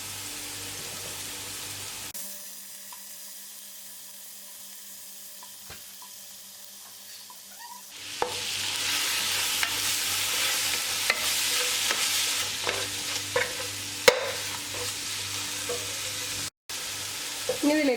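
Large tomato frying in a pan for chicken biryani, with a quiet stretch before loud sizzling and occasional stirring clicks begin partway through, close and without talk.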